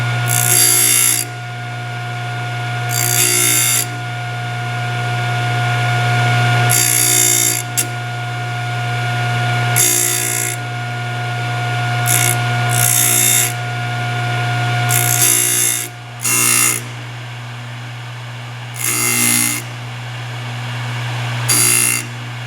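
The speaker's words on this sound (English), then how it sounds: "give a very light grind to each tooth" A Thorvie AV-40 sharpening machine grinds the teeth of a hole saw, with short, light bursts of abrasive grinding repeating every few seconds over a steady motor hum; no one speaks.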